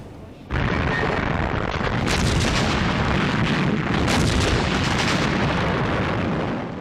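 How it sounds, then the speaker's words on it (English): British artillery fire breaking up a German panzer assault in North Africa in World War II, heard as a continuous loud roar of booms and blasts with heavier bursts rising through it, close and overwhelming. "British artillery broke up the assault, and the panzers were quickly halted."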